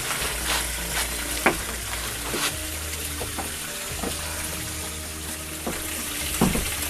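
Golden snails braised in a pan in spiced liquid, a steady close bubbling sizzle with occasional soft stirring scrapes and clinks, no talking.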